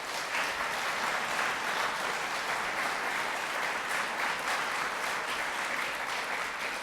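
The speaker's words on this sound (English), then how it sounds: "Please give me a round of applause." A large college forum audience gives a steady, dense round of applause that holds at an even level throughout with no voices over it.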